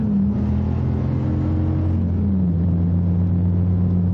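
Loud, close engine drone from a 2016 Dodge Viper ACR at Virginia International Raceway, a steady low rumble whose pitch sags slightly midway, continuous with no voices.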